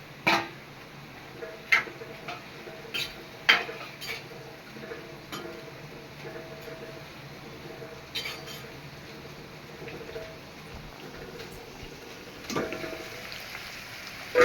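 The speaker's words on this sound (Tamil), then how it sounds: "நல்லா வேகட்டும் வெள்ளைப்பூடு நல்லா சுருங்கி வரணும் இஞ்சி நல்லா சுருங்கிடணும்" Crushed garlic, skin on, and ginger fry in a pan, giving a soft, constant crackle and sizzle with occasional sharp clinks of a utensil against the pan.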